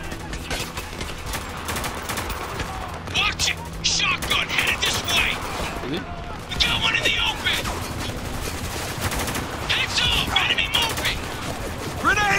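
Rapid video game gunfire from Spec Ops: The Line, bursts of automatic and single shots crackling throughout, with battle noise and voices talking over it.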